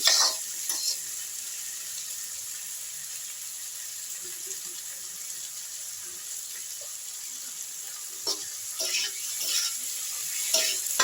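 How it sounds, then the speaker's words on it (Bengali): Spice masala with chopped tomato and ginger frying in a pan for a matar dal dhoka, a steady soft sizzle and hiss with occasional stirring scrapes and clinks, close and continuous with no talk. "মশলাটা ভাজা ভাজা হয়ে যাচ্ছে।"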